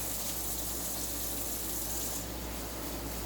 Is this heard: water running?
yes